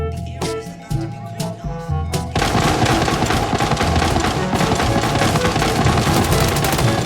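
Sustained automatic gunfire in Arena Breakout aimed at a boss bot: a few scattered shots first, then a loud, unbroken stream of rapid bursts that fills the rest of the clip.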